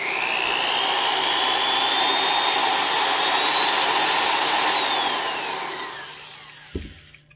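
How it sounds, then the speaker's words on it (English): A power drill spinning in reverse at high speed, driving a Totco USA chronometric tachometer: a loud, steady whine with a rising and falling pitch for about five seconds, then fading as it winds down, with a faint click near the end. "Now I'm going to reverse the drill."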